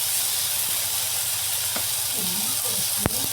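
River fish curry sautés in a pan with turmeric and chilli powder, giving off a steady bright sizzle and hiss with a few sharp spatters and stirring clicks.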